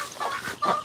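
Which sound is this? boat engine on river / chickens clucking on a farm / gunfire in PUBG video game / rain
chickens clucking on a farm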